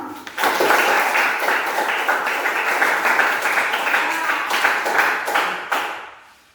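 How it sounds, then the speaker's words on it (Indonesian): Classroom applause for a student who has just spoken, a dense burst of many hands clapping together that holds steady for several seconds and then fades out quickly. "Yuk, tepuk tangan yuk."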